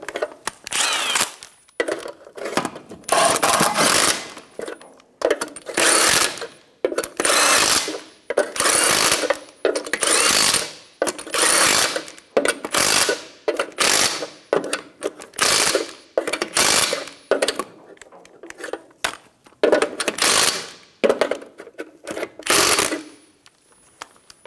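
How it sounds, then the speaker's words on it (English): Impact gun snugging lug nuts on a 2005-2010 Toyota Tacoma front wheel: a long series of loud, rattling hammering bursts, each a second or two long, separated by short pauses, close by. "Snug down the lug nuts."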